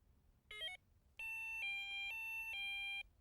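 Delkim Rx Plus Pro bite alarm receiver sounds a short electronic chirp, then three steady tonal beeps in quick even succession as it cycles through its colour channels, clear and close with no talk.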